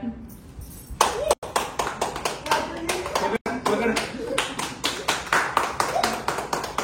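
A family group claps hands in a quick, uneven burst of applause that runs steadily for several seconds, with voices chattering underneath.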